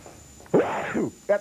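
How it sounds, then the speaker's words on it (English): A single loud, close sneeze bursts out on a television talk show set, followed a moment later by a short vocal sound. "I hate it when I sneeze on television."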